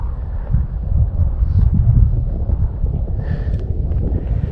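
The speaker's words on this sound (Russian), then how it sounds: "Ветер холодный." Steady cold wind buffeting a microphone beside the Angara River in late October, a low continuous roar with gusty fluctuations and no voices, fairly loud throughout.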